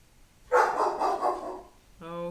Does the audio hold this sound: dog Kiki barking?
yes